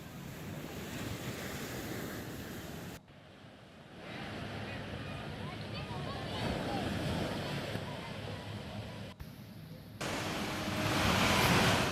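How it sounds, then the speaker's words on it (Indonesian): Calm waves wash onto the white-sand beach at Sanur, Bali, a continuous surf hiss with wind buffeting the microphone; the sound drops briefly twice before swelling louder again near the end. "Pantai Sanur dengan pantai pasir putih dan ombak yang tenang"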